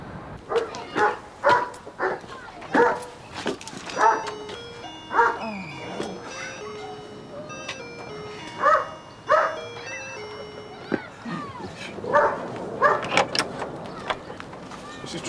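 A neighbour's dog barks repeatedly next door in a residential street, loud sharp barks in irregular bursts mixed with whimpers and yips, with a voice talking over parts of it.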